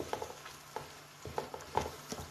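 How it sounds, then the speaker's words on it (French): Bean beignet dough frying in a pot of oil, faint soft crackles and bubbling pops scattered irregularly at low volume. "Là, c'est la pâte qui signale qu'elle est en train de gonfler et gonfler."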